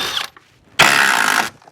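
A hand ratchet or tool buzzes in two short bursts while loosening the running board bolts on a Chevy Tahoe, close and fairly loud with a quiet gap between.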